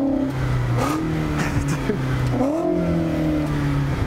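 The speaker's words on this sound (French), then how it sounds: "Vas-y, mets un peu de gaz." A Volkswagen Passat TDI engine revving in a few rising and falling pulls, its tone sweeping up and settling back, loud and close, with no one talking.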